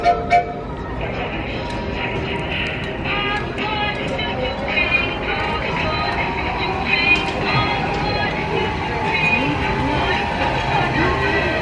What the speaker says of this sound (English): Another option they have here is the landing locomotive.